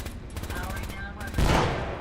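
Rapid gunfire in the video game Fallout 4, a burst of quick repeated shots followed by a louder blast, close and punchy, with a voice talking over it.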